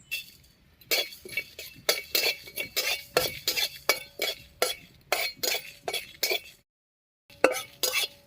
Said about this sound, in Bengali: শুকনো লঙ্কাটা একটু নাড়িয়ে নিচ্ছি